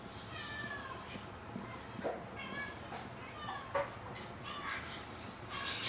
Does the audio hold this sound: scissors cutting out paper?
no